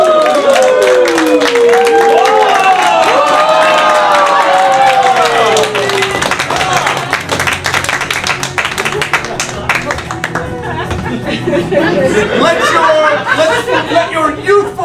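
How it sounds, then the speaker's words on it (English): Theatre audience at an anniversary show of an amateur players' group claps and cheers loudly and steadily for nearly fifteen seconds, with whoops and crowd chatter rising through the applause. "Let your youthful spirit explode in applause for Kid Vid!"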